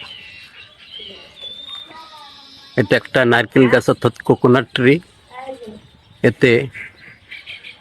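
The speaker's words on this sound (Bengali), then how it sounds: "বাবুই পাখির ডাক" Baya weaver birds nesting in a coconut tree give thin, high chirps and calls, faint and distant, soon joined and partly masked by someone speaking.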